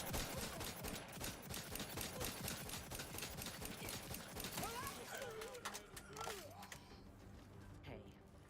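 Bursts of video game RPG gunfire crackle in quick succession over a busy game soundscape, fading toward the end with a few creaks and tonal effects.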